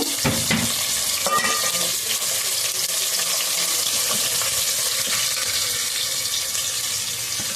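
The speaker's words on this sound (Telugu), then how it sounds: "ఉల్లిపాయలు పచ్చిమిరపకాయలు బాగా ఎర్రగా ఎగిదాకా వేయించుదామండి" Sliced onions and green chillies frying in hot oil for a bottle gourd curry, with a loud, continuous sizzle and crackle and occasional scrapes of a stirring spoon.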